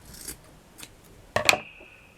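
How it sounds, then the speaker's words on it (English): Scissors snip through a fabric petal to shape it into a cone, giving a few soft cuts followed by one sharper, louder snip near the end, close and quiet with no voices. "Cut it into a cone."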